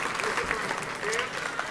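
A crowd claps loudly and continuously to cast a vote at a community Rooster Booster event in Owensboro, a thick, even wash of applause with slight swells and no pauses.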